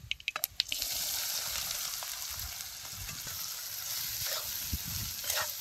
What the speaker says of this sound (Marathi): आता ह्याच्या तेलात एक चमचा मोहरी टाकतो आणि जिरे बी एक अर्धा चमचा टाकायचं